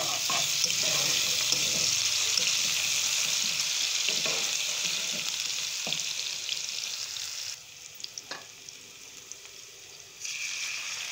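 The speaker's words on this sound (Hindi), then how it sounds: "अच्छी तरह से इसे भुने।" Chopped garlic and ginger sizzle and fry in a pan, a steady close hiss with occasional stirring clinks, dropping quieter for a few seconds near the end before the sizzle returns.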